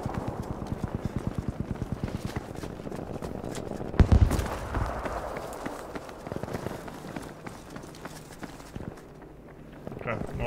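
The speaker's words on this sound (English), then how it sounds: "I was listening for footsteps there." Footsteps in Battlefield V run in quick rhythmic thuds across the first seconds, followed by a loud impact and then scattered game noise, with a player talking over much of it.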